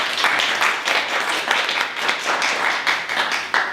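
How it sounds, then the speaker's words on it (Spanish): An audience applauds a guest speaker at a televised talk on climate change and public health, with dense, lively clapping throughout, near and loud, with no voices over it. "para quien pido un fuerte aplauso"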